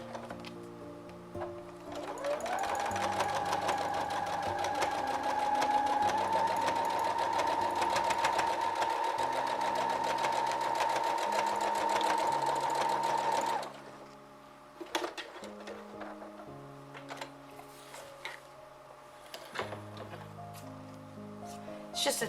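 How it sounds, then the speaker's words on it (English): A sewing machine stitching straight across a seam on a box bag, a steady, even motor whir lasting about eleven seconds, then stopping and followed by quiet handling noises. "I'm just going to sew right across that"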